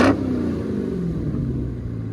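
A straight-piped, supercharged 6.2-litre Dodge Charger Hellcat Redeye widebody gives one sharp blip of revs and then settles into a deep, loud, lumpy rumble up close, with no voices heard.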